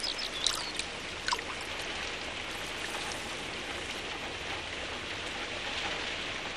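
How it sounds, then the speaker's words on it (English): Steady rain falls on an outdoor fishing spot, a dense continuous patter with a few closer drops standing out near the start, holding an even, moderate level throughout. "especially when the rain returns"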